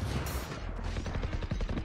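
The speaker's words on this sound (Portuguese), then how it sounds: "Acredito que eu errei esse tiro na Viper, andei na hora." Gunfire in the tactical shooter game Valorant comes as a dense, loud burst of rapid shots that fills the short moment with no talking.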